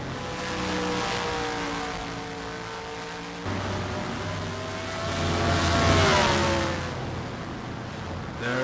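Racing car engine droning steadily as it heads out onto the track for a qualifying session, its pitch rising and falling with gear changes and swelling louder toward the middle before easing off.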